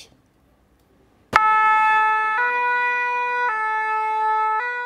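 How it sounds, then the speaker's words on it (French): A loud two-tone fire engine siren starts abruptly after a near-silent moment and keeps alternating steadily between its high and low pitches, sounded by firefighters in protest. "Des sirènes pour faire entendre leur ras-le-bol."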